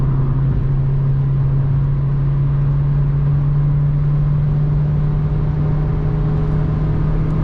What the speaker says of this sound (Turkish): Anında 120'ye çıktı. Abi yüksek devir ya cidden yüksek devir.